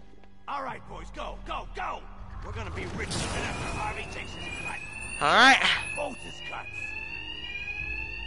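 An alarm rings in the video game Batman Arkham Knight, a repeating electronic tone pattern running throughout under someone talking over the gameplay.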